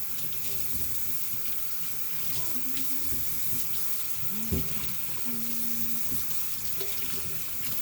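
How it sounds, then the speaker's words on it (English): Tap water runs steadily into a sink as store-bought celery is rinsed under the stream, a continuous close splashing wash with a few brief knocks and tonal squeaks mixed in. "So you rinse it off."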